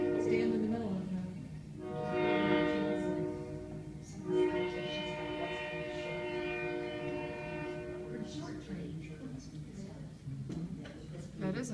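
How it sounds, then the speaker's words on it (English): A short train passes near an old depot in a small college town, its horn sounding in long harmonic blasts over rolling rail rumble, with people talking nearby. "That is a short little train."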